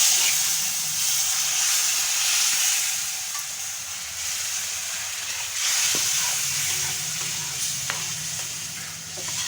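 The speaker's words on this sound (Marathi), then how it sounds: "आता मी यात टाकणार आहे हे दूध। हळूहळू टाकायचं आहे।" Milk poured into hot roasted semolina in a pan sizzles and hisses steadily, with faint stirring scrapes and bubbling throughout at moderate volume.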